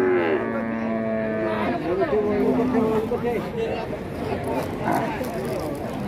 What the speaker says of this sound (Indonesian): Nah ini kondisi pasar sapi Jatirogo bos ya atau pasar hewan Jatirogo ini.